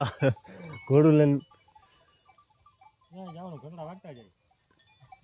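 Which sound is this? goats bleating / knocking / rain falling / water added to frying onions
goats bleating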